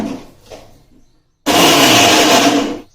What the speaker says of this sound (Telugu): ఇక్కడ వెల్లుల్లిపాయలు కూడా మిక్సీ పట్టడం అయిపోయింది